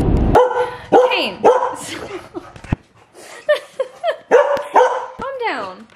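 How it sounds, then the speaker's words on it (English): An excited dog barks repeatedly in quick, uneven bursts close by, with people talking and laughing in between the barks. "This is Stryker's dog, and he is absolutely psycho out of his mind"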